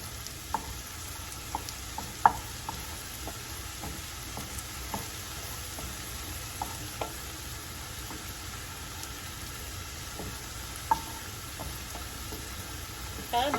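Bacon and cauliflower rice fry in a pan over medium-high heat, making a steady, even sizzle. Sharp pops and crackles break through now and then.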